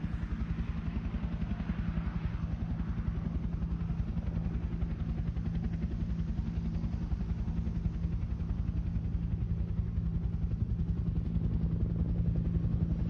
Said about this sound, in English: look to your left as the Black Hawk comes back to recover the QRF force